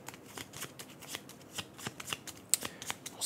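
Playing cards for the Woodcraft board game are shuffled by hand, a close, quiet run of rapid riffling and flicking cards with soft snaps, with no talking.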